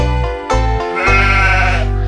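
A goat in an animal alphabet song gives loud, drawn-out bleats, a few short calls and then a long wavering one, close and clear with no talk over it.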